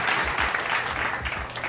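An audience applauding as a performer is introduced, a short burst of steady clapping from a small crowd, fairly close and full.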